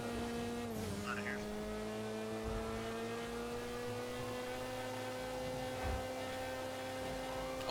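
A car engine in the GTA video game hums and accelerates with a steady rising drone, tires briefly squealing, heard close and continuous.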